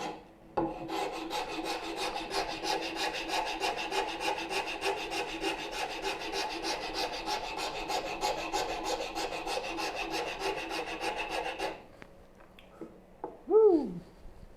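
A wood rasp files a wooden part of a turning bow saw in steady, rapid back-and-forth strokes for about eleven seconds, close and fairly loud. After it stops there is a brief quiet gap, then a short high whistle-like sound.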